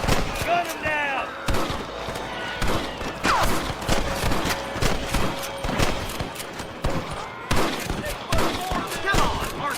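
Rapid gunfire crackles through a Wild West shootout in Red Dead Redemption, dense bursts of shots repeating across the scene, loud and close, with shouting voices mixed in among the shots.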